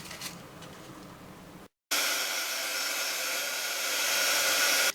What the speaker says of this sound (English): So I'm going to dry that off with the heat gun